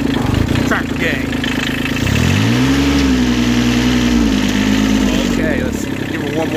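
A heavy tractor engine runs loud and close, then climbs into a sustained rev that holds high for a few seconds before easing back down.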